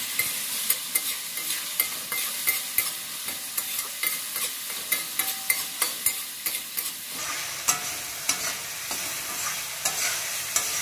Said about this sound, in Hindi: 5 से 10 मिनट के लिए अच्छे से भून लेंगे, अच्छे से पका लेंगे।